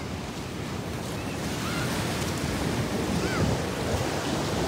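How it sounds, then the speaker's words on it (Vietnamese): Ocean waves breaking on a California beach, a steady loud roar of surf with wind buffeting the microphone throughout. "Sóng này lớn nè, sóng này lớn"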